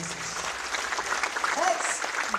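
A church congregation applauds in praise of Jesus, a moderate wash of clapping that runs steadily throughout while a voice speaks over it.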